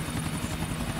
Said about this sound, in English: Is Jacob smoking a naughty cigarette while I'm flying the helicopter?